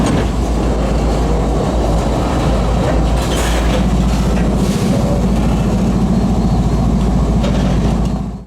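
Union Pacific Centennial 6936 locomotive rolls along the former Rock Island mainline, a loud, close, continuous rumble of engine and wheels with a rhythmic clickety-clack of railcars building near the end.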